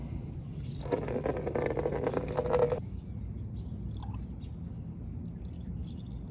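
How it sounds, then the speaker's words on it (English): Coolant drains from a Honda Goldwing GL1500 Interstate engine into a container, a steady pour that stops after about two seconds and leaves quiet surroundings with a few faint, sparse drips. "So that's slowing down just to a trickle. Now it's a drip"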